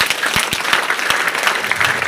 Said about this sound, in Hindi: एक बार अपने लिए जोरदार ताली।